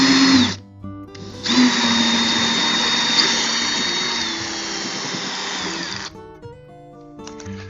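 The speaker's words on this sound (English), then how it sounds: "Take your drill. We're going to drill the 2 holes." A power drill whirs steadily at close range for several seconds, drilling two holes to mount a floating shelf, briefly stopping once early on, then winding down and going quiet.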